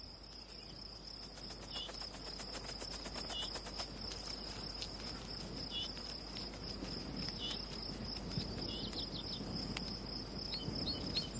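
Male crickets trill steadily in a dense, unbroken chorus, with pulses stacked in quick rhythm over a low, rustling outdoor background. No voices break in, and the chirping holds at an even moderate level throughout.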